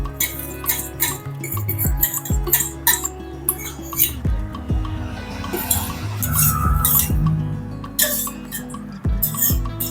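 Thick cooked dal is tipped into a pan of tempering and stirred, giving irregular metallic clinks and scrapes of a spoon against the pot, with soft thuds and a low background hum.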